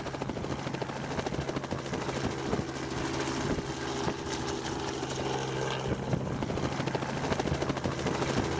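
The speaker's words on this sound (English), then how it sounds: "Please come to the chopper." A helicopter's rotor drones steadily and loud throughout, with a constant low engine hum and thumping blades close by, no talk over it.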